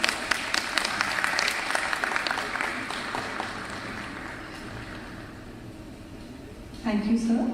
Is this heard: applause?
yes